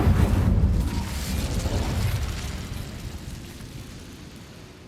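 The Incendio fire spell in Hogwarts Legacy bursts as a loud, deep whooshing flame blast that rumbles heavily at first and then gradually fades away over several seconds.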